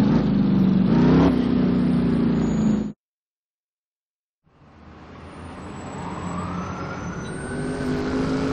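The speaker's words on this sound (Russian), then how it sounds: "Скорая помощь. Движется только она." An ambulance siren in the Driver: San Francisco video game, a loud steady engine and wailing tone that cuts out abruptly into silence, then fades back in with a rising sweeping siren and engine drone.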